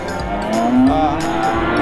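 Cattle moo close by at the busy Rogojampi livestock market in Banyuwangi, among breeding cows and heifers, with a long rising-falling low call over market background noise.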